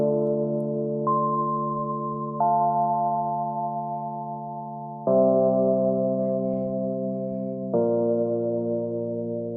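Sustained synthesized chords change four times, each held for a few seconds with a soft attack, steady and clean with no other sounds.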